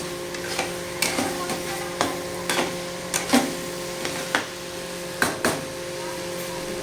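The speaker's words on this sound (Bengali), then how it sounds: "এখন বন্ধুরা আমি মাংসের মশলা কষাচ্ছি" Spice paste for meat sizzles in hot oil in a pan, with a steady frying hiss broken by regular scraping and clinking strokes of a spoon stirring it.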